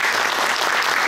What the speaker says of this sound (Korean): 5명의 메신저와 진행을 맡아주신 지용호 전무님께 다시 한번 큰 박수 부탁드리겠습니다